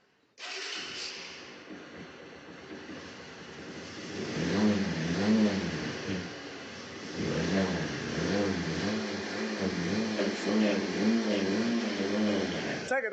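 A motorcycle engine, just started after its wiring was taped together, runs steadily at close range for the whole stretch, with loud revving surges and a rhythmic mechanical pulsing; a voice talks over it at times.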